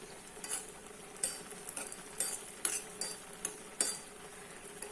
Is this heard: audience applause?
no